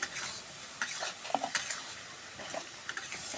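Onion frying in a pan for a village-style taro curry crackles softly and steadily, with a few light scraping stirs of a spoon across the pan.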